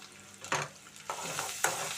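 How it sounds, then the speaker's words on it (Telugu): Ginger garlic paste fries in a pan for a fish curry, a steady close sizzle with a few louder stirring scrapes at irregular intervals. "ఈ అల్లం వెల్లుల్లి పేస్ట్ బాగా వేగింది కదా"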